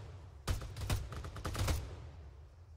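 Gunfire in Arma 3 during a night firefight: a quick burst of about a dozen sharp shots in ragged succession, moderately loud, then fading into quiet background noise.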